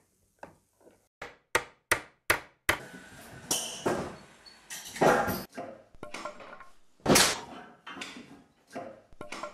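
Nails being hammered into wood by a carpenter, a series of sharp, loud, close knocks in an uneven rhythm, clustered tight at first then joined by scraping and rustling handling noise.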